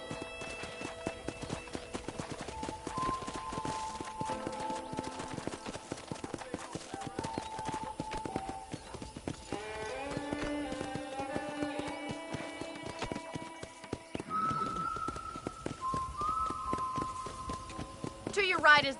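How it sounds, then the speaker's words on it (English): Horse hooves clip-clop in the Red Dead Redemption video game, a steady rhythmic walk of a horse-drawn ride at a ranch, running continuously under spoken dialogue and background western music. "I picked out a fine horse for you."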